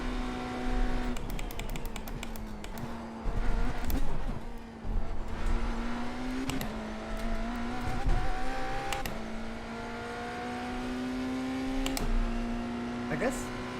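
A BMW LMDh prototype race car laps a circuit in iRacing, its engine droning steadily and rising and falling in pitch through gear changes and braking, with a person talking over much of it.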